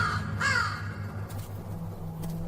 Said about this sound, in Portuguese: Um corvo local vê uma oportunidade.